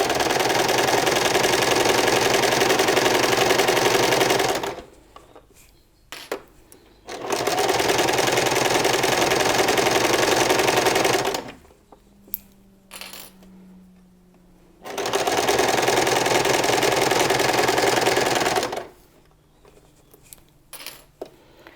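A sewing machine runs a straight stitch through hand woven fabric in three loud, even bursts of rapid whirring, separated by quiet pauses filled with small clicks and handling sounds.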